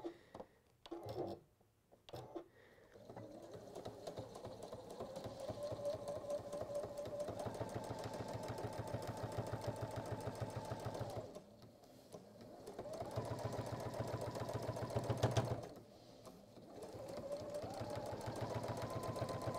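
A sewing machine stitches fabric along a marked line in long steady runs, its motor whirring with a rapid mechanical patter, stopping briefly a few times before starting again, with faint handling noises between runs.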